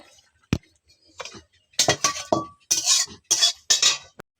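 Boiled taro leaves poured from a metal pot to drain off the water, heard as a sharp clank followed by splashing pours and metallic knocks, close and fairly loud, with no talk.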